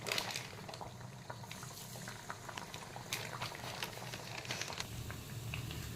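Corn flour vadas sizzle in oil on medium heat, a steady soft bubbling and crackling hiss close by with small pops scattered through it.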